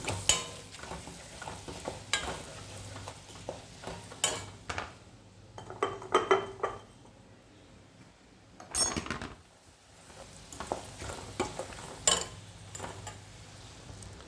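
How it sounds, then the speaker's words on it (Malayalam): Fried sardines are stirred in a pan with sharp metal scrapes and clinks against the pan, coming in uneven bursts over a faint sizzle, close and without voices. "മത്തി വറുത്തതിട്ട് സെറ്റാക്കി ഒന്ന് ചെറുതായിട്ട് ഇളക്കണം"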